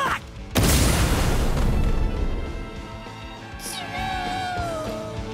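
A skull explosion special attack in the One Piece Odyssey video game: a sudden loud booming blast that rumbles and crackles for a couple of seconds, then settles into a sustained roar with a rising whistling tone and fading debris.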